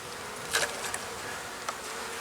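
Honey bees hum at an open hive during an inspection of a weak colony, a steady, moderate buzz with a couple of brief louder passes close by and no voices.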